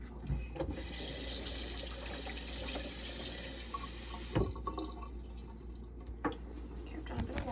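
Water pours into a container of soaking nuts for homemade coconut nut milk, a steady splashing fill with a few clinks and drips, fairly quiet and close.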